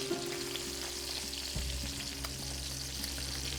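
Whole crappie pan-searing over a wood stove, giving a steady, close, loud sizzle and crackle of frying fish with a brief clatter partway through as the pan is handled; no voices.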